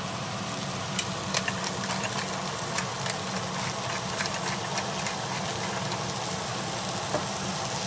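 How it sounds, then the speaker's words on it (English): Mushrooms sauté in a pan as the base for cream of mushroom soup, giving a steady, dense sizzle and crackle with small popping spatters, close-up and constant throughout. "And we're going to begin to saute them."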